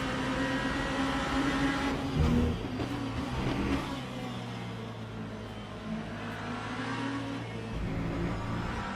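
A BMW race car in Le Mans Ultimate revs its engine at the race launch, a steady droning engine tone with a sustained low note and rising harmonics, surging briefly near the start before holding steady.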